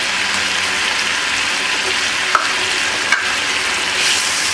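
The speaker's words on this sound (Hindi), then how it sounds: "ये देखिए कोफ्ते डाल देती हूँ मैं" Kofta balls go into a gravy cooking in a pan: a continuous close bubbling sizzle with two brief soft knocks as they are dropped in.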